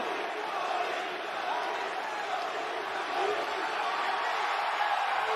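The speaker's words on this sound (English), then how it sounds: "Cody's got this crowd all pumped up." A wrestling arena crowd cheers on Monday Night Raw, a distant, fairly quiet wash of crowd noise and applause that rises and falls gently without pause.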